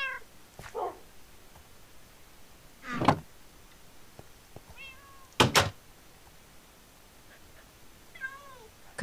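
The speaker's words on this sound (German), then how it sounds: "Bei der Katze Arwen bin ich hier" A cat meowing in the video game Minecraft, several clear separate meows spread across the stretch, with a couple of soft thumps between them and no speech.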